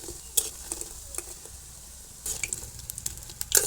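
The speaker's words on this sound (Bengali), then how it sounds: "এরকম লাল লাল করে মচমচে করে পকোড়াগুলো সব ভেজে নিতে হবে।" Onion-stalk pakoras frying in hot oil until crisp, a soft steady sizzle broken by light clicks and scrapes of a utensil against the pan, close and without talk.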